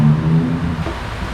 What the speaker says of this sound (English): I took that little car down the road